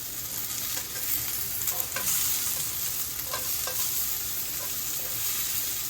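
Pork sausage pieces sizzle steadily in a hot frying pan while a utensil stirs and scrapes through them. The hiss is continuous and close, with occasional clinks.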